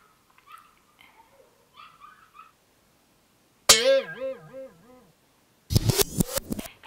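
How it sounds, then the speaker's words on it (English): A dog gives a few faint yips and whimpers, then a loud, close run of rising and falling howl-like barks, followed by a burst of sharp, harsh barking near the end. "If you can hear that dog."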